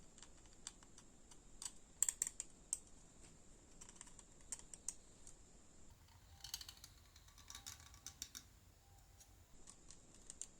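A 0.15 mm scribing tool deepens panel line grooves in the plastic body of a Hasegawa 1/24 Nissan R92CP model, making faint, close, irregular scratchy clicks in short bursts with brief pauses.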